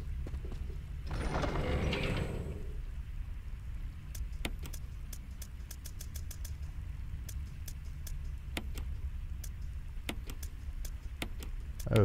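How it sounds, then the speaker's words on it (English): A crank mechanism being fitted back into place in the video game Resident Evil HD Remake: a brief grinding mechanical rumble early on, then sparse sharp metallic ticks over a low steady hum, with no talk. "I think I can put back the crank at least."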